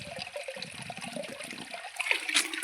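Spring water flows and trickles in a soft, fairly faint continuous babble with small splashy bursts near the end.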